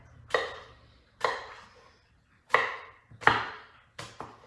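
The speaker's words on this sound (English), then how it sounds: "So I have my apples chopped and put into their own bowl." Knife chopping apples into pieces on a cutting board: five distinct, crisp chops spaced about a second apart, close and clear with no talking.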